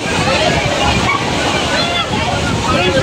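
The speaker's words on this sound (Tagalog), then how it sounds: "oh, lakas ng alon mga maninay." Loud, turbulent waves crash and slosh continuously nearby, rough water churning without letup and buffeting the microphone.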